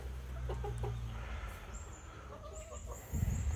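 Burmese chickens and chicks cluck in a coop and free-range pen on a fighting-cock farm, several birds calling close by over a steady rustling background, with a brief louder low thump near the end.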